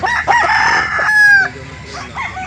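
A Golden Boy cross Boston rooster crows loudly and close by at a chicken market in Calauan, Laguna, one long drawn-out call with other fowl faintly in the background.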